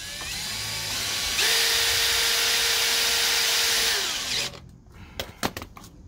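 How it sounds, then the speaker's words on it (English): Cordless power drill driving self-drilling screws with a nut-driver bit during a blocked sewage drain repair, a high whirring run of about three seconds ending in a few clicks and knocks. "These are self drilling screws. You've got to drill."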